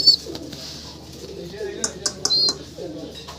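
Pigeons coo in low, soft murmurs, with a few brief high chirps over them and a voice talking faintly in the background.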